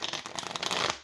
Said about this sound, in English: it does shuffle beautifully and easily.